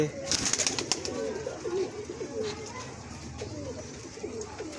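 Breeder pigeons cooing in a loft in Islamabad, Pakistan, repeated soft rolling coos from a nearby bird over a busy background with faint voices.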